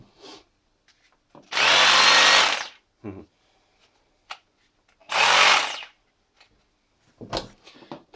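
A new Bosch rotary hammer drill with a slight whistle runs in two loud, close bursts of about a second each, separated by quiet gaps with faint clicks and handling noises.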